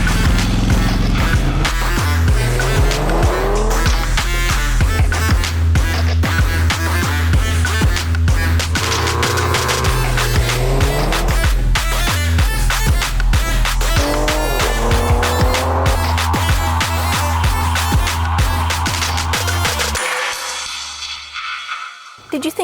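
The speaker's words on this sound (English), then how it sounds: "Did you think I'm going to skip launch control with this family-friendly SUV?" A Kia Sportage hybrid family SUV launching hard with launch control, its engine rising through several gear changes under loud sustained talk, then the roar fading toward the end.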